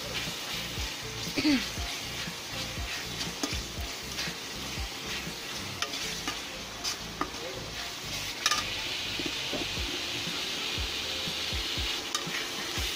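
Chicken and spices fry in a pan for a curry, giving a steady close sizzle with scraping stirs and occasional clinks of a utensil against the pan.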